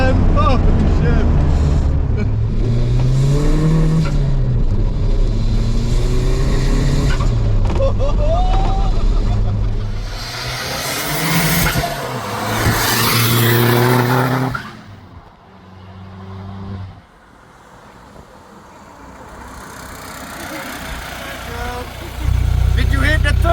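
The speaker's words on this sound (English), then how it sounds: "Did you hear that turbo sound?" Modified MK2 TDI car of over 400 horsepower accelerating hard, loud turbo whoosh and engine roar rising and falling through gear changes, with excited voices shouting over it close inside the cabin.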